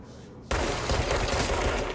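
Sudden burst of rapid gunfire in the game Control erupts after a quiet moment, a loud continuous stream of shots with rattling impacts lasting about a second and a half.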